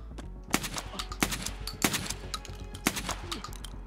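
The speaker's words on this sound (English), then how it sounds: "He heard the shooting?" Gunfire in the video game Escape from Tarkov: several sharp, loud shots in a quick, uneven series over a steady background hum, with no talking.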